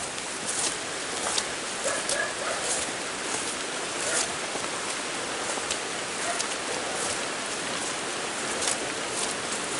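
Steady rain falling at a tilapia farm, a dense even hiss of drops on surfaces with occasional sharper patters, continuous and fairly close, with no talking.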